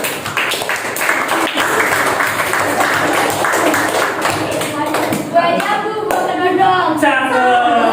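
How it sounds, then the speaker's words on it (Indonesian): A classroom of students claps for a group in loud, steady applause, with voices talking over the clapping toward the end. "Boleh tepuk tangan untuk kelompok 1"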